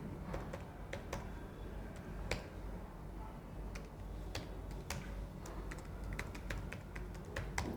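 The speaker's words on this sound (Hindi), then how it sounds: "you have to type it" Typing on a computer keyboard while filling in an online form: scattered crisp key clicks, some in quick clusters and some spaced apart, faint and close over a steady low hum, with no talking.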